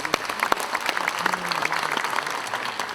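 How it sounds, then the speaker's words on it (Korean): Audience applause greets the president of the 6.25 Korean War veterans' association at a war anniversary ceremony in Cheonan, a steady round of clapping from a modest crowd with a few sharper nearby claps and faint voices underneath. "박수로 맞아주시기 바랍니다."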